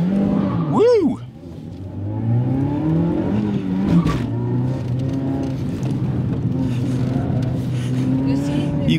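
Toyota Yaris GRMN hot hatch engine revving loudly while driving, with a rising rev sweep near the start followed by a steady strained engine drone under continuous road and cabin noise.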